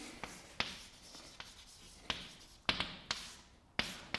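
A theorem is written on a board during a higher algebra lecture, with faint scratching strokes broken by sharp taps at irregular intervals and no speech.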